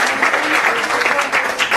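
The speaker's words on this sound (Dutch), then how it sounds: "Een applaus." An audience at a trend-lecture event applauds steadily, with dense, close clapping that fills the whole moment at an even level and a faint murmur of voices beneath.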